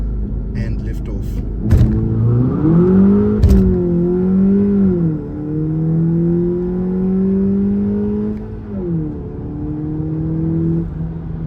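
A VW Polo GTI launches hard on launch control from 0 to 100 km/h, its engine loud and close, revving, then pulling through rising gears with brief dips at each shift. Speech may be faint underneath.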